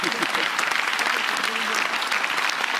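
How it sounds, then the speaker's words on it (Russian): Studio audience applause at the finale of a televised celebrity dance competition, a dense, steady wash of clapping that stays loud and even throughout, with no speech. "Эти аплодисменты вам и, конечно же, Екатерине Осиповой"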